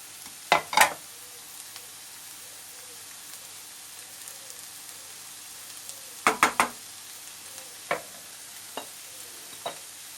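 Roasted minced meat frying in a pan with kapia and green peppers, a spoon scraping and stirring in a few sharp clusters of clatter over a steady low sizzle.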